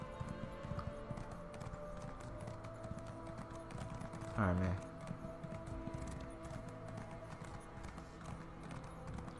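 A horse gallops with rapid, even hoofbeats in Elder Scrolls Online on PS4, running steadily throughout, while someone briefly speaks midway.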